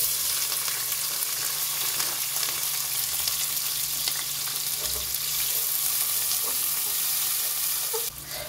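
Onions frying in oil with turmeric in a home kitchen, a steady close sizzle with faint crackles throughout and a brief clatter near the end.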